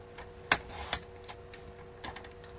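Card stock being cut on a paper trimmer for a card workshop: a few sharp clicks and ticks, two prominent snaps among lighter taps, close and fairly quiet with no talking.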